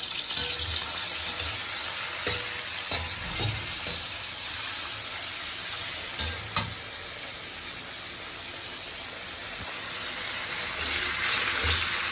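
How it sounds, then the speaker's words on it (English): Fish balls, chicken pieces and shrimp sizzle steadily in a pan, a continuous close hiss broken by occasional pops and clinks. "So I'll just fry everything first."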